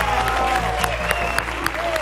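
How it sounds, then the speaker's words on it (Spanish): Studio audience applause on a Spanish TV show, a dense steady clapping under a lively host voice, loud and close for two seconds. "Venga, vamos, Pili, un aplauso para Pilar."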